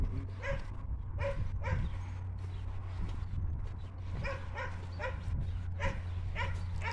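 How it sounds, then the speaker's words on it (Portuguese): A dog barks repeatedly in short bursts at a moderate distance, over a steady low hum and outdoor background noise. "O Ed tá latindo lá porque tá vendo nós"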